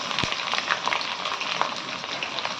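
Onion, green chillies and curry leaves frying in hot oil, giving a steady, dense crackling sizzle throughout, close and constant, with no talk.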